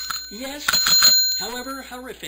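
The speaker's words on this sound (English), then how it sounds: "that is the sound of the comedy bell" A comedy bell rings once to mark a bad pun, a short bright ding sounding over a man's ongoing speech.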